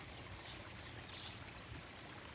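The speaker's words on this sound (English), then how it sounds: "I love the sound of the water." Water trickling and splashing in a backyard koi pond, a soft, steady babble heard faintly and without pause, with no voices.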